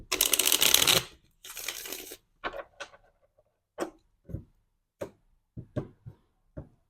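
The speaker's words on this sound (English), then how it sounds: "And we're going to shuffle this one once more." Tarot cards riffle-shuffled twice in quick bursts, followed by a series of soft taps and clicks as cards are placed down one by one, close up.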